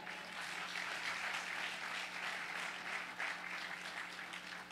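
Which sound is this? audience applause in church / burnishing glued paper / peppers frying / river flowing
audience applause in church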